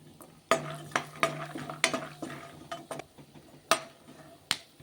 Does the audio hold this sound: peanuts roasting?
yes